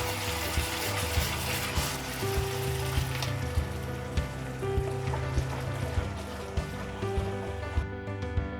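Tomato puree hitting a hot pan of frying masala paste for Pindi chole, a steady broad sizzle and bubbling with faint clinks, close and continuous with no talking.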